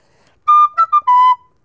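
Wind instrument playing a short phrase of tongued notes, each attack separated: a long held note, two brief notes, then another sustained note, clear and close with no talking.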